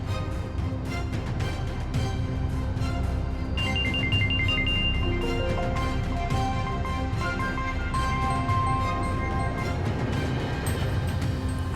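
A mobile phone rings with an incoming call, its melodic ringtone repeating steadily and clearly for several seconds with no other sound over it.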